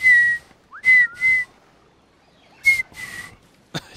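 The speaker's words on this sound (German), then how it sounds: "Ich bin nicht so gut im Pfeifen." A person whistles in short, sharp bursts: a few clear tones in quick succession, a brief gap, then two more bursts and a short chirp, close and fairly loud against a quiet background.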